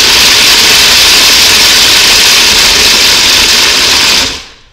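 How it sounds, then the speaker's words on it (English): A food processor chopping shelled pistachios and fresh mint gives a loud, steady, close whirring roar that stops abruptly near the end, with no voices over it. "Here in the food processor, I have just some shelled pistachios, and then I just tore some fresh mint in."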